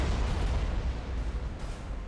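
Torpedo strikes hit in Battlefleet Gothic Armada 2: a continuous, loud, rumbling wall of explosions and booms with no pauses over two seconds.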